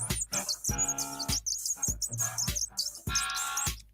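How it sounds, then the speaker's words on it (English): A small bird chirps and tweets close by in quick repeated bursts, bright and lively, with tonal sounds running beneath the calls. "Time for a bird solo."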